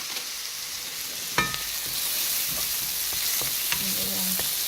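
Chicken and shrimp spring roll filling sautés in a pan, a steady soft sizzle with a few scrapes and clinks of a wooden spoon stirring through it.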